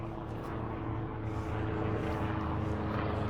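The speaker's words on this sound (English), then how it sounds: "Just gonna let the helicopter pass." A steady, droning rotor and engine rumble fills the air, loud and continuous as a helicopter passes overhead.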